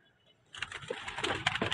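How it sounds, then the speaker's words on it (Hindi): A plump pigeon handled up close at a bird market gives soft coos and fluttery rustles in short bursts after a brief quiet start. "ये देखो दोस्तों भरा हुआ कबूतर है"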